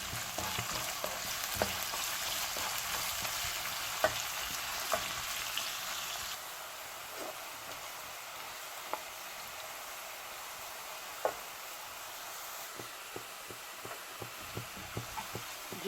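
Onions frying in oil with whole garam masala for a Lahori chicken pulao, a soft, steady crackling sizzle with occasional sharp pops and stirring clicks, fairly quiet and without talk.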